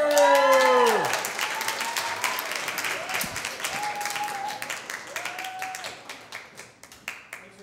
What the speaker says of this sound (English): Thanks for clapping, guys